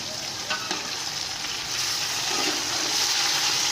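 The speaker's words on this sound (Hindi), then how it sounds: "हम गोश्त को 2 से 3 मिनट फ्राई करेंगे।" Meat sizzling and frying in a pan with softened tomatoes while cooking chicken pulao, a steady loud hiss with faint crackles throughout, no talk.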